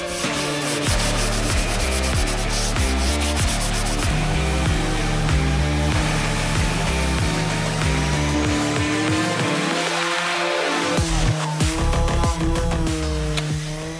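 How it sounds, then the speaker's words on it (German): Steady hand sanding of a door with a flexible sanding sponge, continuous rubbing strokes over the surface, with background music playing throughout. "Ich nehme dafür immer ganz gerne so eine Schleifschirme, die sind schön flexibel."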